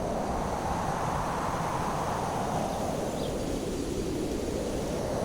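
Strong wind roars steadily during a rainstorm under heavy rain clouds, a continuous broad rushing noise that stays loud and unbroken throughout, with no talking.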